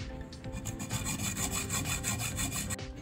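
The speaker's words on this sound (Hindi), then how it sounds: "सबसे पहले इस पाइप को जो है हम नीचे से काट लेंगे" A pipe being sawn at an angle with a hand saw, close and steady, with quick back-and-forth rasping strokes in a fast even rhythm for a few seconds.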